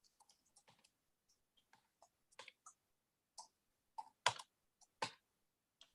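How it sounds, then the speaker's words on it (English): Faint, scattered keystrokes from a computer keyboard come through a video call, irregular clicks in short bursts separated by silence. "Please mute if you're typing"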